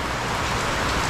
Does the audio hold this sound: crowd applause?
no